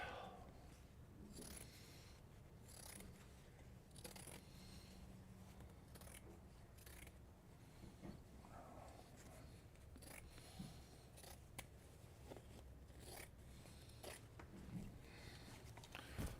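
Scissors rough-cut an ornament out of material in a quiet room, with a series of irregular crisp snips and rustling handling sounds spread across the whole stretch.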